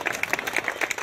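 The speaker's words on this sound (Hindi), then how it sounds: "जोरदार तालियां।" Applause from an audience at a felicitation ceremony, a sparse, uneven patter of claps, moderately loud and close, with no voices over it.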